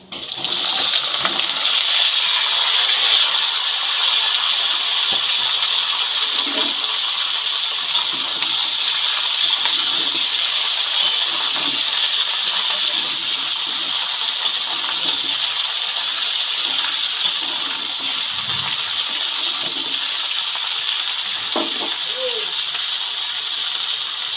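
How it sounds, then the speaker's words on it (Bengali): Eggplant, pumpkin, beans, radish, potato and slit green chilies hit hot oil in a pan and fry with a loud, steady sizzle that holds throughout with only small crackles. "সবজিগুলোকে এবার তেলের মধ্যে দিয়ে দিলাম"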